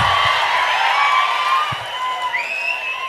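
An audience applauds at a live mimicry comedy show. The clapping is loud and continuous, mixed with crowd noise and a few high whistles, and fades slightly toward the end.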